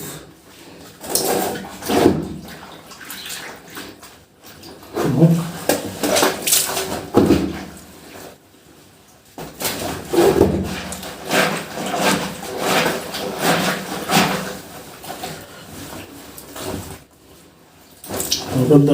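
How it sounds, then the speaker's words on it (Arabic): Laundry scrubbed and rinsed by hand in water, with irregular bursts of sloshing, rubbing and splashing separated by brief pauses, close by and moderately loud. "هبدأ بقى ادعك الغسيل"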